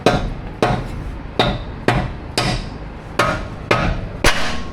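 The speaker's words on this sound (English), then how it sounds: "Big old cartoon hammer." A large hammer taps a winch bracket down into place on a 2023 Jeep Wrangler. Eight sharp metallic blows come at an even pace, loud and close, each with a short ringing decay.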